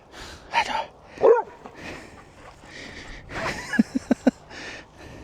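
A dog outdoors gives a few short barks and yips, with a quick burst of three sharp barks near the end, fairly close and moderately loud over light background noise.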